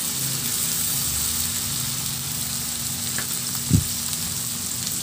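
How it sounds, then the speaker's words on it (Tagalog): Tomatoes sautéing with fish sauce in a pan, a steady soft sizzle and hiss throughout with a brief clink of a utensil stirring near the end. "ihalo hanggang sa maluto yung kamatis o hanggang sa maglabas talaga ang kulay ng kamatis habang ginigisa natin"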